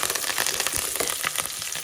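Onions, cashews, curry leaves and biryani masala frying in hot butter in a pan, a loud close crackling sizzle with sharp popping bursts throughout.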